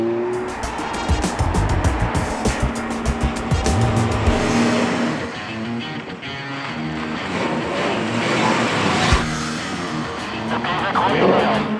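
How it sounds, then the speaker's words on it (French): A Ferrari 430 Spider GT sports car driving through a small village on a rally route, its engine revving loudly up close with tyre noise and passing roar, under a voice talking throughout. "Difficile pour nos GT d'exception, comme cette Ferrari 430 Spider, de traverser nos petits villages jalonnés de Dodane."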